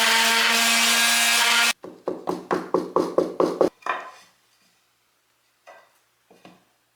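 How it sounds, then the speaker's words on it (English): Wood is cut with a jigsaw: a loud continuous buzz of blade through wood, then a run of about seven rhythmic rasping strokes that fade out, followed by a few faint knocks. "I'm gonna use my jigsaw"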